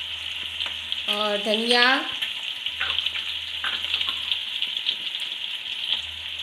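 Okra curry with turmeric, spices and green chillies frying in oil gives a constant bright sizzle with occasional stirring scrapes, while someone talks over it.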